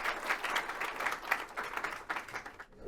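Audience applause after a research commission report release event, steady clapping across most of the clip before stopping abruptly near the end.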